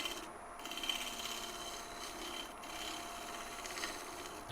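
Light scraping on a thin-walled box elder burl bowl being hollowed, a steady dry rasping wood rub running continuously and fairly quiet, with no talk over it.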